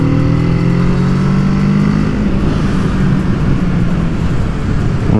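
Kawasaki A2-class roadster motorcycle accelerating hard, a loud close engine note climbing steadily in pitch through the first couple of seconds, then settling into a dense, rough drone blended with wind rush.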